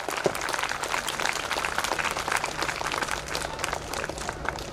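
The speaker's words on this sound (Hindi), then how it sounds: "तालियां बजाइए जोर से" An annual day school celebration audience applauding child olympiad winners, dense crowded clapping that fills the space evenly and continuously, with a faint voice now and then beneath it.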